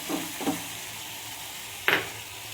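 Cumin and coriander seeds tipped into a frying pan, giving a few brief sizzling bursts with a louder crackle near the end over a low background hiss.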